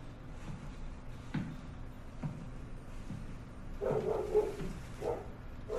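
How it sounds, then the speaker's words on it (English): Dog barking in the horror video game Soma: several faint, brief barks spaced out over a low ambient drone, with a louder burst of barking near the end. "That fucking dog scared me a little bit."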